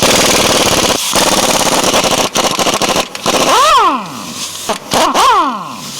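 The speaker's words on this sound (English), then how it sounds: "we're going to use a 13/16 and rip all 4 U-bolts out" A 13/16 socket on a power impact wrench rips the U-bolts off the axle of a 1994-2002 Dodge Ram 2500/3500 truck. Loud, close, rattling hammering runs in bursts, with short spin-up whines between the stops.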